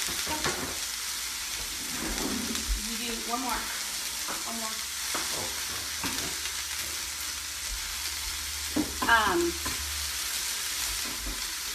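Clattering stirring of food in a bowl, with a steady background hiss and a brief voice speaking midway.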